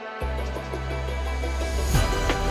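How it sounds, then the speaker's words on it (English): Melodic drum and bass drum top loops swell in gradually as a filter opens, with a steady pulsing rhythm over a sustained low bass bed, loud and continuous with no voices. "there is a filter automation, so it gets gradually introduced in the mix"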